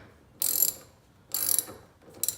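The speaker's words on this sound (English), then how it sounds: "tighten these screws down, put the cap back on, and this repair will be complete. And first, my ratchet." A ratchet tightens screws on a car side mirror in three short bursts of rapid clicking, close and crisp, each separated by a brief quiet pause.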